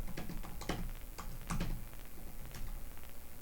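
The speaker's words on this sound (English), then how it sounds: "So I'm going to type up Graham and Dodd" Fingers typing on a computer keyboard in a home office setting, a quick run of close, crisp key clicks in irregular bursts, with no talking over them.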